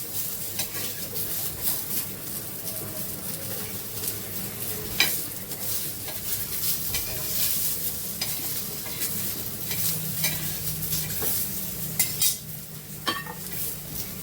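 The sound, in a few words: roasting crab with onions in a pan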